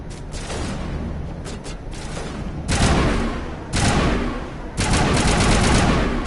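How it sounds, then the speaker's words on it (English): Rocket launcher fire and explosions in a PS4 video game come as a series of loud, harsh bursts. Several blasts and rattling volleys follow one another in quick succession, with no voices. "Yep, here comes the rocket."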